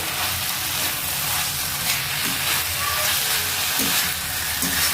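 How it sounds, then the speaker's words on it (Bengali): Mixed vegetables and fish fry in a pan, giving a loud, continuous close sizzle with a few soft stirring scrapes. "এটার মধ্যে দু একবার নেড়ে আপনারাও নেড়ে দেবেন যাতে সবজিটা লেগে না যায়"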